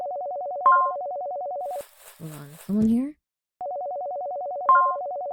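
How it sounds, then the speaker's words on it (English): A phone rings in the video game August Ends, a steady electronic warble repeating in two bursts with a short chime on each, separated by a stretch where a person talks and other game noises intrude. "Oh, the phone's ringing."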